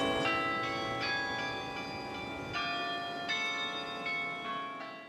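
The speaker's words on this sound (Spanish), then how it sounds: "Este es el sonido que emiten las campanas del Templo Votivo de Maipú" Church bells of the Templo Votivo de Maipú, next to a school, ring in a series of bright resonant strikes every second or so, each tone ringing on and overlapping the last.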